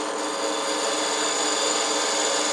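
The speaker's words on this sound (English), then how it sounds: "It's a 3/8" spindle gouge. It's about perfect for this size project. This is a piece of maple." A wood lathe turns a piece of maple against a 3/8 inch spindle gouge for a small coffee scoop, giving a steady, close hissing cut with an even whine and no pauses.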